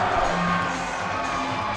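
Crowd cheering at a schools netball match between King's Worcester and RGS Worcester, a steady broad roar of voices with whoops through the whole short stretch, fairly loud and continuous.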